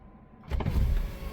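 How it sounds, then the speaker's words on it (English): An electric power window motor on a Foxbody Mustang whirs briefly and close, starting after a short quiet moment and running for under a second without any voices. "electric windows"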